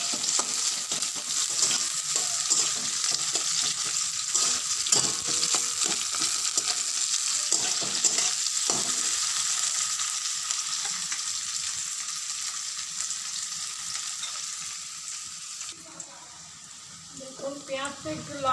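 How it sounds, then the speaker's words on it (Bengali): Onions fry in oil until reddish, giving a steady loud hiss of sizzling with a faint scrape of stirring. The sizzle softens toward the end as a voice talks. "পেঁয়াজটা একটু লাল লাল করে ভাজবো।"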